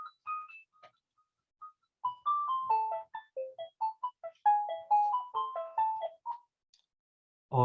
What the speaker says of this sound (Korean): 이게 팩스라 끊어지지가 않네요, 전화가.